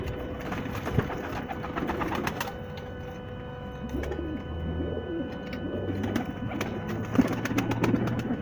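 Brown Rampuri pigeons coo in low, rolling phrases amid a steady mechanical hum and scattered clicks, the coos recurring through the stretch at moderate loudness.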